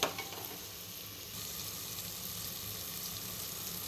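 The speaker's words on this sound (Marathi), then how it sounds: "आता हे 5 मिनिटं आपण एकदम मसाला सगळा भाजून घेणार." Biryani masala roasts in a hot pan with a steady, close sizzle and crackle that runs unbroken for a few seconds, with no voices.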